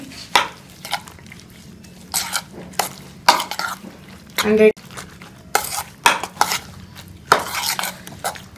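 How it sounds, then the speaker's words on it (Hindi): Chopped vegetables for a sandwich filling are stirred in a bowl with a spoon, giving repeated scraping and clinking strokes in irregular bursts, close up and fairly loud. "तो अब मैं इन सारी चीज़ों को जो है वो अच्छी तरह से मिक्स कर लूँगी।"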